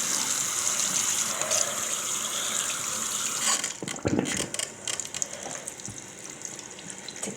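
Tap water runs steadily into a sink as an Xbox disc is rinsed, a close hissing gush that cuts off partway through, followed by wet handling splashes and drips.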